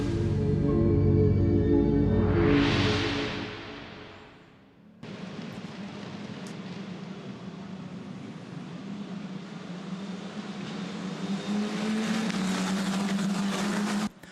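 Italian F4 single-seater race cars at Monza, first a loud roaring pass that fades out, then a steady dense drone of many engines accelerating together into the first corner, with no talking.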